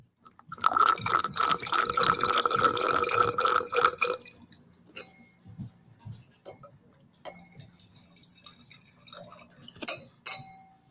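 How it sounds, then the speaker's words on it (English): Wine pours through a small aerator into a glass in a winery cellar, a bubbling, gurgling rush for about four seconds, then quieter drips and clinks. "we were pouring through a small aerator as well"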